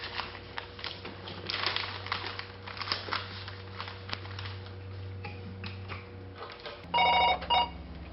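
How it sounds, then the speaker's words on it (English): A telephone rings at a hardwood moulding business, two short electronic bursts heard near the end after a stretch of ticking and workplace background noise. "When a customer calls, Joanne recognizes many by voice when she answers the phone"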